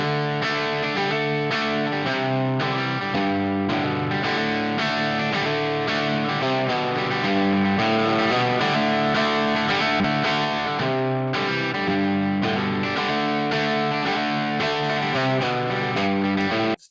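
Distorted rhythm guitar through a Bad Cat Hot Cat amp into a 1978 Marshall cab with 25-watt blackback speakers, miked with a Unidyne 545, plays steady sustained chords, loud and continuous with no talking.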